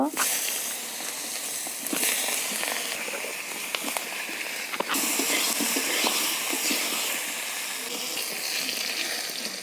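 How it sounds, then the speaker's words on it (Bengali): Eggplant slices fry in a pan with a continuous hiss and sputter, a few sharper crackles, and talking over it. "প্রথমে আমি বেগুনগুলো ভেজে নেব।"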